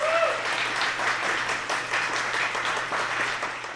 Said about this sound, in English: Big hand for Woodja, everybody.